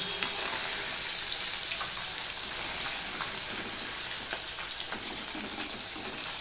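Small morla fish frying in oil in a pan on a gas stove, a steady dense sizzle with crackling pops throughout, close and continuous with no talking.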